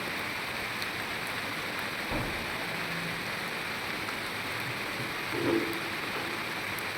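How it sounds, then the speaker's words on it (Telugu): Heavy rain falls steadily in a village, a dense continuous hiss of drops on surfaces, even and unbroken, with a faint low rumble near the end and no voices. "మంచి వర్షం కురుస్తుంది"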